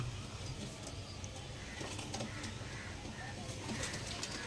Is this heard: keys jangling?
no